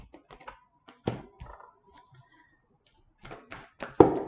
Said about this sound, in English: I'm throwing cards